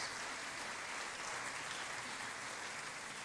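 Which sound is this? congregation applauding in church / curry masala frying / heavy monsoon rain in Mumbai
congregation applauding in church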